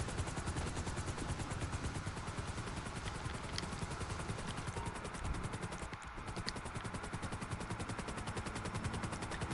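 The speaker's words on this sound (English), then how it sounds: "Anyway, Mavericks, my favorite helicopters because they're incredibly fast." A Maverick helicopter in the GTA 5 video game gives a steady, loud rotor chop and engine whir that runs unbroken, with a brief dip in the middle and no talking.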